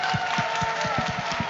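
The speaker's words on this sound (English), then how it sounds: "can we all give our organizers an applause?" Audience applause for event organizers at an Asian Pacific Islander Heritage Month celebration, a steady wash of clapping from a crowd filling the short stretch without any voices over it.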